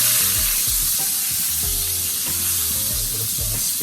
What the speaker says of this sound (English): Going in my butter